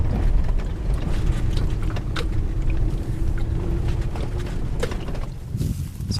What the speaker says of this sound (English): Driving through a dry wash now.